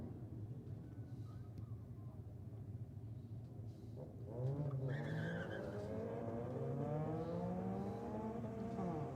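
Honda Integra at a Sydney Dragway drag race, its engine revving with rising, shifting tones and some tire noise, heard from a distance against a steady background roar.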